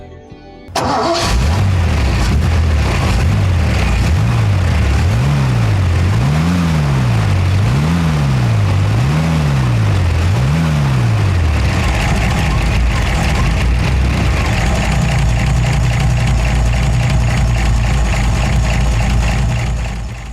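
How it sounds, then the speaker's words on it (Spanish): A 1984 Ford F100's 292 V8 with a two-barrel Holley carburetor cranks and fires, then revs up and down in a series of rhythmic blips before settling into a steady, rumbling idle close by. "El motor de la F100. En este caso, el recordado 292 fase 2 V8, 160 caballos, alimentado por un carburador Holley de doble boca"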